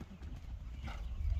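A rather heavy horse's hooves clop faintly on the ground in a quick, uneven run of soft, low thuds.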